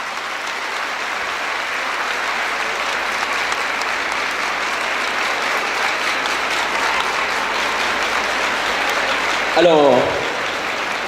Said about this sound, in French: je vous demande d'applaudir le...